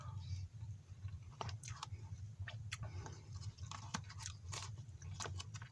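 Someone chews a spicy beef rice meal from a Korean field ration, producing soft, close crunches and bites in an irregular rhythm over a low background hum.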